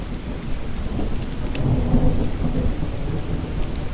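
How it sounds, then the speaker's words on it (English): Steady rain falls with low rumbles of thunder rolling underneath, a dense, continuous patter with a swelling growl near the middle. "the soothing sound of falling rain and crackling fire"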